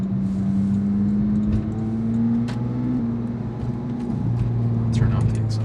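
A straight-piped Porsche GT3 drives along, its engine droning steadily with a couple of rising and falling shifts in pitch, close and continuous, while occasional thumps and cabin noises sit over the exhaust.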